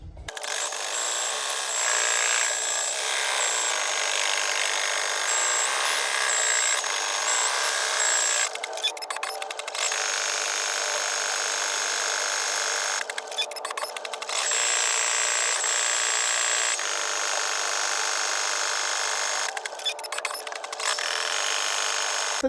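Brother NQ-1770-E embroidery machine, repaired after being jammed, stitching samples; steady loud mechanical buzz with rapid needle rattle, broken by a few short pauses, no talk.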